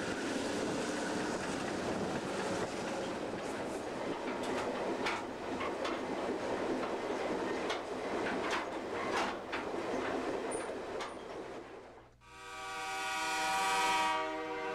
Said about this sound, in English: As our 13-car train dieseled to meet 6325 in Coshocton, Ohio